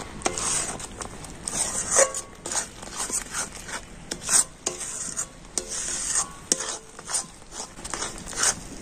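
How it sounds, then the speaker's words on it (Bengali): Sun-dried rice flour is stirred into a mixture in a pan to make tal gora pitha, stiffening into a dough. Close, continuous scraping and rubbing comes in uneven strokes, with no voices. "আর এখন আমি আতপ চালের গুঁড়িটা তো সমস্ত কিছুর সাথে খুব ভালো করে নাড়াচাড়া করে নেব।"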